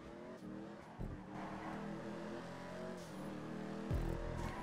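A Declasse Ruiner muscle car drives in a video game, its engine holding a steady, loud drone that revs and shifts pitch, with a couple of brief thumps along the way and no talking.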